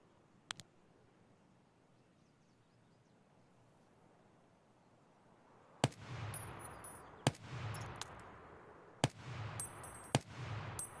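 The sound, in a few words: AK-104 single-shot gunfire in video game Escape from Tarkov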